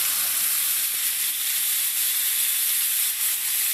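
A brisket burger patty fries on a hot surface with a steady, loud, hissing sizzle that holds evenly throughout with no talking.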